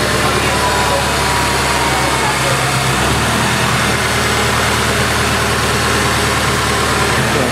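The newly installed engine in a Nissan S14 build runs loud and close at a steady idle, with a dense, constant rumble throughout and a slight shift in tone partway through.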